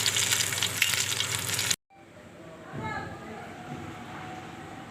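Prawns frying in a spicy fry in a pan, with a loud dense sizzle that cuts off abruptly, followed by a quieter, softer frying hiss.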